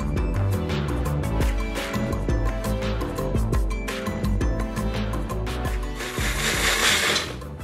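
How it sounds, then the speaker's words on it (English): A small kitchen blender whirs through fresh washed ginger with about half a cup of water, the motor pulsing in short bursts and stops before a steadier, higher run near the end, close and fairly loud. "Gonna blend that ginger into a pulp"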